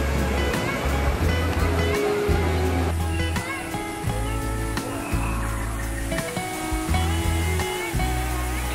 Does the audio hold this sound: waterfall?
yes